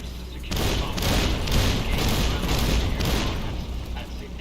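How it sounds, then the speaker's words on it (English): An M235 missile launcher on a Securitron robot fires in Fallout New Vegas: a loud, sustained barrage of rapid explosive launches and booms that runs without a break after a short quiet start. "The M235 missile launcher gives the Securitron"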